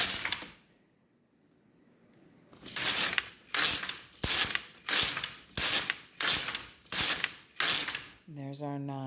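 Tension dial on an LK150 knitting machine clicks sharply seven times in an even rhythm after a brief quiet pause, close and distinct, followed by a short mechanical whir.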